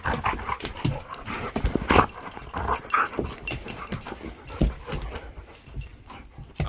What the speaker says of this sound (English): there's two dogs biting me